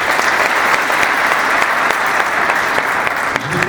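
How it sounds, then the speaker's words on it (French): A crowd at a Normandy regional football awards ceremony applauds steadily and loudly for a player, with dense, sustained clapping throughout and no talk. "vous pouvez applaudir Mathieu"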